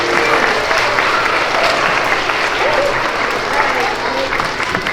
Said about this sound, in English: we'll give kindergarten a round of applause.